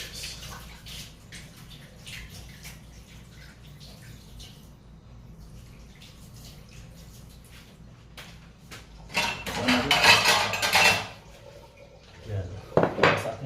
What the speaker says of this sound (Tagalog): Kikita nyo, maghuhugas na naman ako ng kamay.